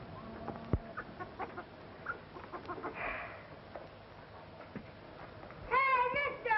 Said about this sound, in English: No, that's our chicken.